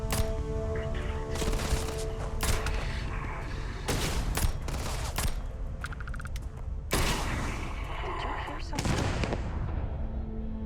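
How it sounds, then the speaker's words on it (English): Gunfire in the Starfield video game, a pistol among sharp shots and bursts scattered through a noisy combat scene, fairly loud and close, with indistinct voices mixed in. "Wow, that was a pistol shot"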